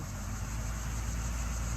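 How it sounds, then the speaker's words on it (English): A loud diesel truck passes close by, its deep, steady engine rumble filling the whole stretch with no talk over it. "gonna let that big ass truck, loud ass diesel behind us"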